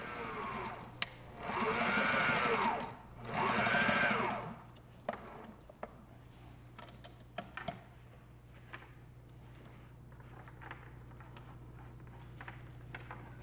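A sewing machine stitches together layers of fabric in two steady, loud bursts of whirring of about two seconds each. Scattered light clicks and handling noises follow, with no talking.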